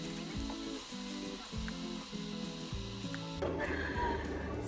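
Cabbage stir-fried with soy sauce sizzles steadily in a hot pan, with rhythmic scraping strokes of a spatula repeating every second or so and a brighter hiss rising toward the end.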